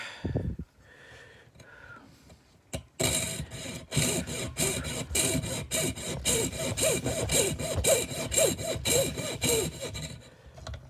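Hand saw cutting through wood with a fast, even rhythm of rasping strokes, close and loud, after a few quieter scrapes and taps at the start.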